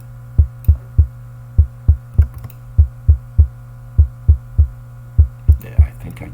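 A synthesized kick drum, each hit carrying a small click in its attack, thumps in a steady, close, loud rhythm over a constant low hum.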